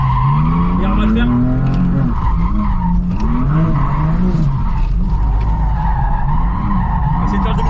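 A drifting BMW E30 fitted with a Corvette engine sends out loud continuous tire squeal and skidding over a rising and falling engine roar, close by and without a break, while people talk over it.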